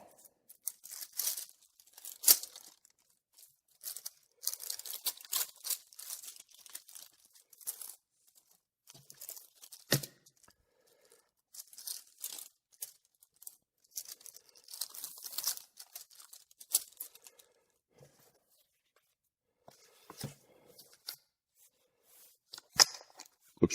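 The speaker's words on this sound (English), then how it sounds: "Get the wax paper out." Wax paper peeled and crinkled away from a freshly glued hand-bound book after drying under weight, a run of close, dry tearing and crackling bursts with short pauses between, no talking.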